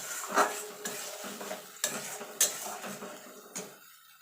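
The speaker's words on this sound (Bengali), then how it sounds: "এটা দিয়ে ভালো করে কষিয়ে নেবো যতক্ষণ মশলা থেকে তেল না ছেড়ে আসছে" Masala is stir-fried in oil for a vegetarian aloo dum, a close, repeated scraping and clinking of a spoon against the pan every half second or so over a low sizzle, with no talking.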